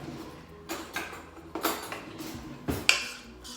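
A spoon folding heavy cream into a cream cheese mixture, soft wet scrapes and gentle clinks against a bowl in a few slow, separate strokes, quiet and close.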